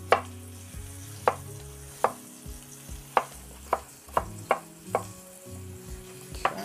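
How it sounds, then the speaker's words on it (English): Onion chopped on a board with a knife, a series of sharp, evenly spaced chops about every half second, close and clear over low kitchen background noise. "Let's chop up a little onion."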